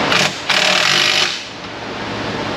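A GearWrench ratchet spins rapidly on brake caliper bolts during brake work on a vehicle hub, a loud close buzzing clicking burst that stops briefly, then continues more softly.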